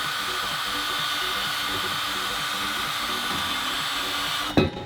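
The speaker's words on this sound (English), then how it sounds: "you could wire wheel all the rust off" A wire wheel on a power tool grinds rust off turbo metal in a steady, loud, high-pitched whir that runs unbroken before cutting off sharply at the end.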